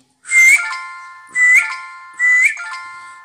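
Three bright, rising whistle-like chirps sound from a mobile phone's find-my-phone alert, each a short loud tone with ringing overtones that fade out slowly, close and alone, roughly one second apart.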